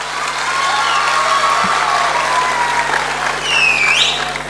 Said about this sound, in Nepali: तपाईहरुको ताली चाहिन्छ नि आफ्नो कलेजको प्रशंसा गर्दा।